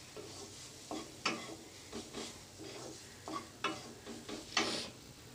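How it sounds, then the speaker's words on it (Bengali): A spice mixture for potato chops is stir-fried in a little oil, with a soft sizzle under repeated scraping strokes of a spatula that come at an uneven, roughly one-per-second rhythm. "মশলাটা আমার ভাজা হয়ে গেছে"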